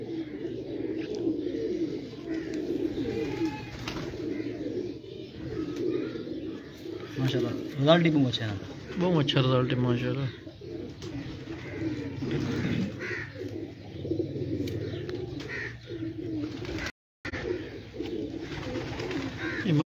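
Pigeons coo in soft, repeated throaty bursts on a rooftop loft, heard under men's conversation that runs through most of the stretch, with a brief dropout near the end.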